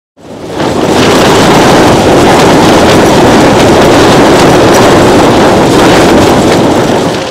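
Furious wind gusting around a Hilleberg Jannu tent at an exposed camp, a loud, continuous roaring rush that buffets the microphone without letup for the whole stretch.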